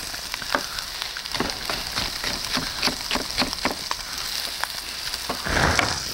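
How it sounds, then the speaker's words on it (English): Red beans cooking in a pot are stirred with a spoon, making a steady run of short scraping strokes against a bubbling, sizzling bed, with a slightly louder burst near the end. "Keep this stirring so it doesn't get burnt."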